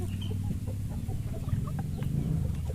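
Soft, rhythmic low cooing from a zebra dove, repeating steadily over a noisy outdoor background.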